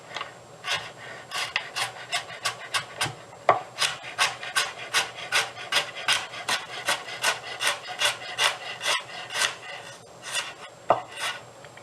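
Knife slicing stacked carrot planks lengthwise into matchsticks on a board, a quick regular run of crisp cutting strokes, close and distinct, with a brief pause partway.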